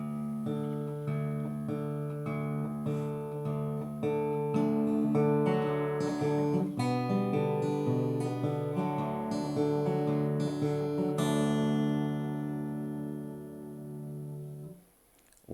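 Acoustic guitar played fingerstyle with the thumb keeping bass notes at regular intervals under a melody, a steady ringing pattern that ends on a sustained chord fading out.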